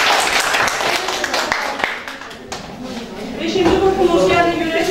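An audience in a classroom during an open lesson claps in a dense burst of applause that fades over about two seconds, followed by murmuring voices.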